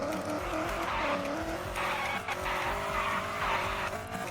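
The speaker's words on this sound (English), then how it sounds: "Look at that tire screeching. There's barely any traction there." Tuned Jeep Trackhawk tires screech continuously on a race track, a loud wavering squeal over the roaring engine, with no talk over it.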